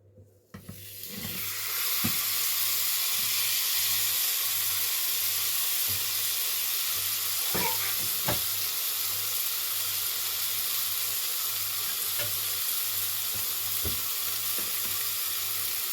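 Fish frying in hot oil in a pan, a loud continuous sizzle and hiss that swells as the fish goes in, with scattered pops and utensil taps, no talk.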